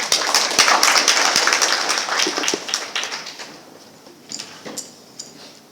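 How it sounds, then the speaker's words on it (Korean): Audience applause welcoming a speaker at a 2022 cybersecurity workshop talk, dense clapping that thins and fades over several seconds, ending in a few scattered claps. "큰 박수로 맞이해 주시면 감사하겠습니다."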